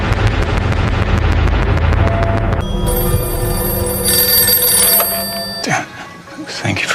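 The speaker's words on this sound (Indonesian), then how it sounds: "si ayah mendapatkan telepon dari pihak kepolisian kalau si Robin temannya Vinny telah hilang" A telephone bell rings repeatedly in a film scene, loud and insistent over a low rumbling background, before the ringing stops and the scene shifts to quieter sounds.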